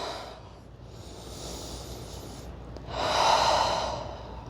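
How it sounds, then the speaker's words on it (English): Slow, deep breathing held in a yoga malasana squat: a long, soft airy exhale followed by a fuller, louder breath, close and alone with no talk. "Breathing here."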